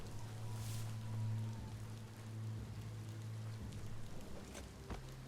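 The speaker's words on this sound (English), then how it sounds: "we're inside and it's still raining." Steady rain hisses indoors within a game's ghost-town setting, a dense continuous wash with a low droning hum running underneath throughout, no talk.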